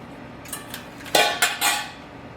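Utensil clinks and scrapes against a bowl as brown sugar mixture is stirred into frothy egg white, a few quick close metallic taps, no voices.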